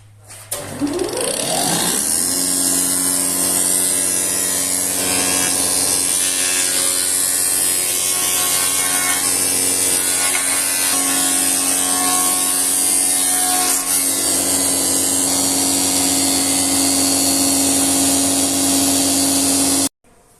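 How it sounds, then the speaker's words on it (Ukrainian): A spindle moulder with a router cutter and hold-down clamps shapes the edge of a wooden window trim blank, a loud, close, continuous high-pitched whine and cutting roar that runs steadily for about twenty seconds before stopping abruptly. "поставили прижимні механізми, щоб закрити шпінделя із фрезою, починаємо пропускати заувалення на нашій заготовці."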